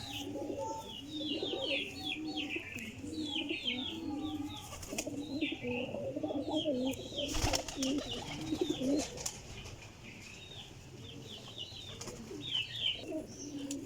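Many pigeons, among them a Golden Heera pigeon, coo steadily and overlapping throughout, close and busy, with chirpy calls above and a brief loud thump midway.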